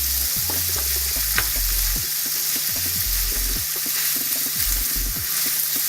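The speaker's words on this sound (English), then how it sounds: "So brown up the meat a little bit." Meat browns in a pan for a crockpot dish in the Balkans, a steady loud sizzle and crackle with repeated scraping and stirring knocks close by, and no talk.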